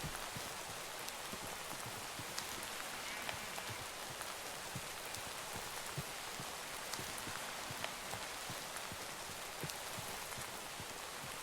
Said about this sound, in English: I love the rain, don't get me wrong.